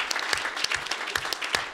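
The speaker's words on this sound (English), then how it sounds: "may we begin by giving Kenneth a round of applause" Steady applause from an audience at a 100th birthday celebration, many hands clapping at once in a dense, lively patter that holds at an even level throughout.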